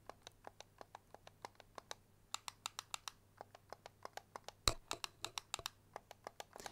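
Trigger of a Pico Neo 3 Pro VR controller pressed over and over, giving a steady run of sharp, close plastic clicks at an uneven pace, with one louder snap near the end.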